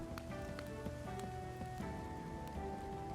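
Rain in the survival video game Project Zomboid patters steadily and evenly throughout, a soft constant wash of drops with faint tonal game sounds beneath.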